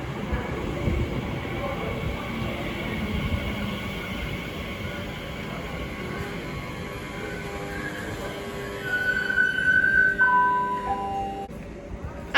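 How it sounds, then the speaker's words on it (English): A Great Western Railway IET train from London Paddington to Weston-super-Mare passes at Slough, a steady rumbling roar with a rising hum and a brief two-tone horn near the end. "the next train to pass by is going to be a Great Western Railway IET from London Paddington to Weston-super-Mare"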